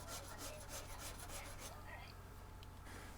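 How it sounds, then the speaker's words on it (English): Sanding beam leveling the fret tops on a 1977 Gibson Dove guitar neck, giving repeated close rasping strokes in a steady rhythm that taper off into quieter scraping. "I'll use a couple different length beams and sand and level the tops of the"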